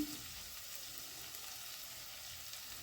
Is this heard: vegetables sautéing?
yes